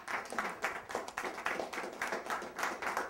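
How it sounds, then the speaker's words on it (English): An audience claps together in a steady, rhythmic patter of hand claps, moderately loud and close, carrying on evenly for a few seconds with no voices over it. "Let's give a round of applause"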